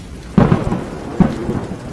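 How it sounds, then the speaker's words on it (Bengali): Two sharp thunder cracks split a rainstorm at night, each a sudden loud crash followed by a rumbling tail, set against a steady hiss of rain. "হঠাৎ করেই বিদ্যুতের ঝলক, আর সঙ্গে কড়কড় শব্দে বাজ পড়ল মাচার পাশের গাছটার দিকে"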